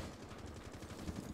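Rapid automatic gunfire from a first-person shooter video game, a steady rattle of close shots lasting just over a second with no talking.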